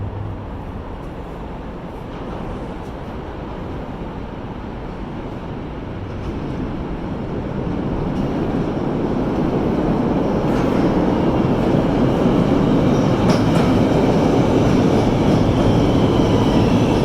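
Train rumbling through Chicago, a broad steady roar that swells gradually louder over the clip with faint metallic squeals on top, no voices.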